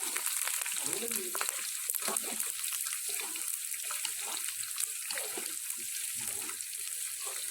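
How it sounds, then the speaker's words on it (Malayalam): Jackfruit mixture and curry leaves fry in hot oil with a continuous, close crackling sizzle that holds steady throughout. "ഇതെല്ലാം കൂടെ ഒന്ന് വറുത്ത് കോരി എടുക്കുക എന്നുള്ളതാണ്"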